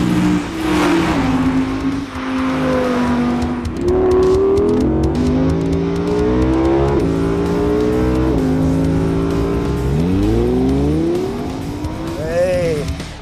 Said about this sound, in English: The classic thing about this car is the high revving V10 engine.